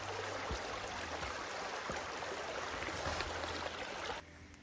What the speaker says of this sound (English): it's a reasonably active brook.